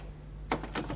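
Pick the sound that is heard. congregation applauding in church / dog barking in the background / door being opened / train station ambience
door being opened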